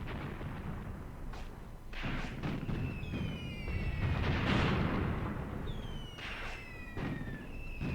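Gunfire and shell impacts rumble steadily in the WWII tactics game Graviteam Tactics as enemy fire strikes infantry guns, with repeated muffled booms and whistling rounds over a dense battlefield roar.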